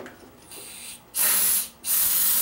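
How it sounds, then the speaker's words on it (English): Two long bursts of aerosol spray into a riding mower's engine intake hiss loudly up close, with a short pause between them, after a fainter hissy stretch at the start. "spray that IDI fluid in there"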